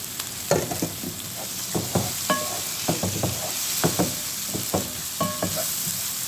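Pieces of pre-boiled duck fry in a pan with small diced tomatoes, giving a steady sizzle close by. A utensil stirs and scrapes the pan in irregular clacks over it, with no talking.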